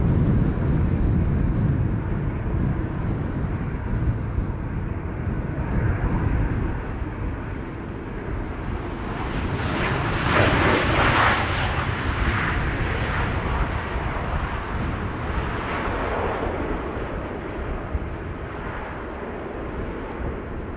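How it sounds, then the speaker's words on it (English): A KLM airliner arriving from Geneva lands at Amsterdam Schiphol airport on a windy day, its jet engines producing a steady, loud roar that swells midway and holds for the whole stretch. "This is KLM flight 1930 arriving from Geneva."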